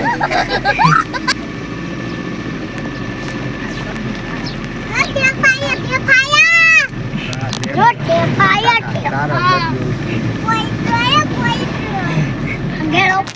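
A boat moves over water with a steady, close engine and water rumble running throughout, while an adult and children talk loudly over it.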